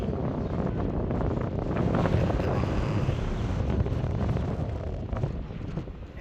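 Strong wind in Bahrain buffets the microphone with a loud, continuous rushing roar that barely lets up.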